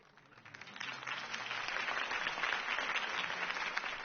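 A crowd breaks into sustained applause after a political campaign speech, swelling quickly and holding steady as a dense wash of clapping from many hands.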